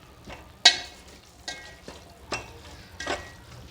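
Spices mixed into minced meat for BBQ keema, heard as a few soft, wet squelches and scrapes at irregular intervals, close and fairly quiet against near silence.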